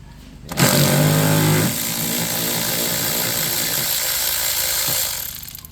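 A ratchet wrench works a 10 mm bolt loose on a Mitsubishi Mirage, giving a loud, steady mechanical whirring and clicking that runs close by for several seconds before fading out.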